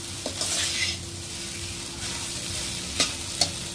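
Fish fries in a pan with a continuous close sizzle, broken by a few sharp clinks of a utensil stirring and scraping against the pan.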